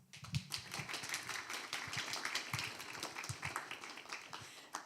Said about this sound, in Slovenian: ta številka si zasluži en uvodni aplavz